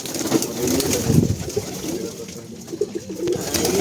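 Pigeons coo in a low, throaty rumble on a pigeon farm housing many breeds, chicks and nesting birds, with repeated soft calls running steadily throughout at close range and no one speaking.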